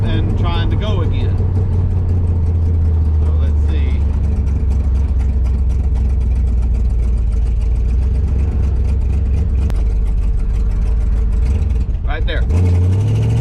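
A 1968 Dodge Charger R/T engine with a faltering carburetor setup runs loud and steady, stumbling and bogging as the accelerator is pressed, then settling back to idle; a voice speaks briefly over it.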